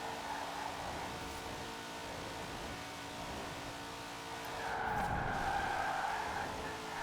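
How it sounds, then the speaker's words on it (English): Twin Mill car in Forza Horizon 4 with a steady engine drone, swelling louder near the end as it accelerates and the tyres skid, with a rising high whine over the rumble. "This is definitely the fastest accelerating car in the game."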